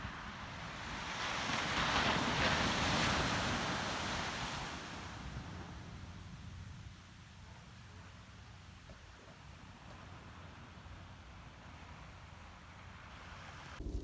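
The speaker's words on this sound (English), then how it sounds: "I'm going to show you the ocean one more time." Ocean surf and wind along the coast near UC Santa Cruz: a wave builds and crashes loudly in the first seconds, then recedes into steady wind rush and distant surf.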